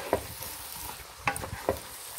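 Pork fat rendering into lard in a pot, a low steady sizzle broken by a few distinct scraping stirs along the bottom, close and moderately quiet, with no voices.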